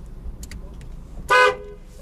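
A Daewoo Damas minivan sounds its horn once, a short loud honk of about a quarter second, following a few faint clicks in a quiet setting.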